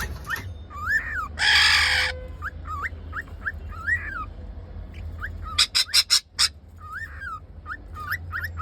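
A pet bird gives repeated sharp, rising calls while being caught, joined by a burst of rustling and a quick run of loud knocks and clatters nearby.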